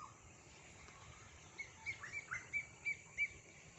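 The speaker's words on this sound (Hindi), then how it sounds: "जहाँ पे परिंदों की मुख्तलिफ आवाज़ें" Faint birds call in a village in Punjab, Pakistan, a quick run of small chirps coming in close succession over a quiet, hushed outdoor background.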